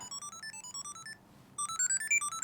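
A Samsung Galaxy SmartTag2 plays its ringtone, a bright repeating melody of short beeping notes that pauses briefly and then starts again, heard close and clear.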